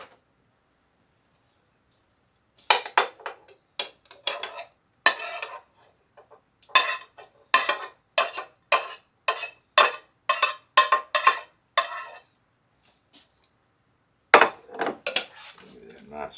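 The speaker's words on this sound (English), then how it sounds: "Give it a nice stir." A utensil scrapes and clacks against a slow-cooker pot while shredded beef teriyaki is stirred, a quiet series of irregular knocks and scrapes with short pauses between them.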